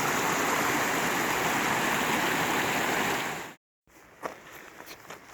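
A mountain creek along a hiking trail rushes steadily and loudly, then cuts off abruptly to a quieter scene with scattered splashes and footsteps as a hiker wades through the water.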